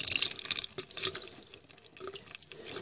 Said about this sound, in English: run some water over it to make sure you didn't leave anything